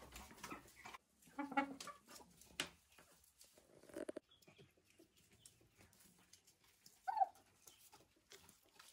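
Silkie chickens in a backyard coop give a few short clucks and chirps, scattered and fairly faint, with two brief louder calls standing out against quiet rustling and background noise.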